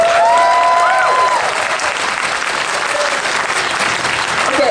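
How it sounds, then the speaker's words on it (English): A convention panel crowd applauds the cosplayers with a loud, dense, sustained round of clapping heard close. A few faint whistles or cheers rise briefly near the start. "Round Okay. of applause for the cosplayers."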